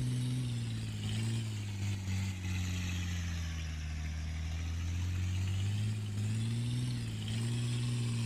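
A tractor engine in the Farming with Friends video game drones steadily with a low, even hum and slight rises in pitch, continuous and close with no voices.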